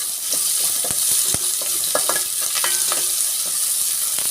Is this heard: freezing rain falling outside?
no